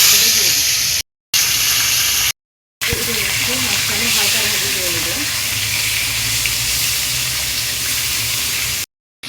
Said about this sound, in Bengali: খুবই হালকা ভাজে দিলাম হালকা ভাজি করে তুলে নিয়েছি